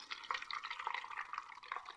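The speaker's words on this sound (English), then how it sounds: "So just pour it slowly, and in it goes." Kombucha poured slowly through a funnel into a container, a quiet trickle with irregular drips and splashes, close and faint, with no voices.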